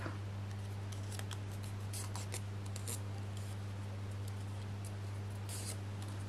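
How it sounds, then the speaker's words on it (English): Small scissors snip away leftover backing sheet from a paper poppy card piece, with quick, quiet, irregular clusters of crisp cuts over a steady low electrical hum. "I've noticed on here we have got a little bit of the backing sheet, so I'm just going to trim that and the pip"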